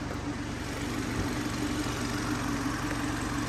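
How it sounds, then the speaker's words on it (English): A BMW 430i M Sport with a TwinPower Turbo engine idles quietly and steadily in heavy rain, a low, even hum running unbroken throughout. "the first thing I'm noticing is just how quiet this later engine is"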